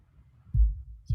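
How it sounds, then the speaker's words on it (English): A standard kick drum with EQ sounds twice, two deep, thumping low hits about half a second apart, fairly close and clean over a faint low hum. "So just a standard kick"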